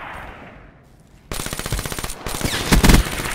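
Loud, rapid automatic gunfire from a video game shooter: a quieter lead-in, then dense crackling bursts of shots that keep firing steadily to the end.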